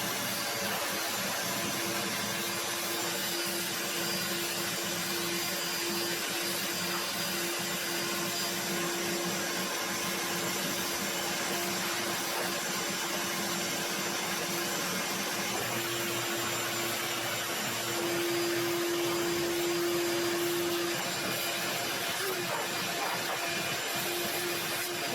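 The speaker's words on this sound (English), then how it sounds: "So I got my trusty shop vac here, and I've got to clean this up" Shop vac running continuously while sucking sawdust off a live edge wood slab on a router sled, a loud, steady droning whine with a faint tonal hum, close by and alone.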